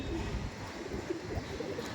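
Pigeons cooing at a bird market stall where red Giribaj pigeons are sold, soft repeated coos close by over a steady background murmur.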